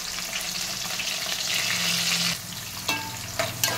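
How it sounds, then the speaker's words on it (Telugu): Sliced onion sizzling and frying in hot oil with green chillies in a pan for a fish curry, a steady close crackle with a few stirring clinks near the end and no voices. "తర్వాత మనం ఆనియన్ వేసేయాలి."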